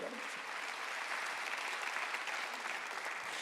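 A church congregation claps steadily and continuously during a Sunday worship service, a dense wash of applause at moderate volume throughout.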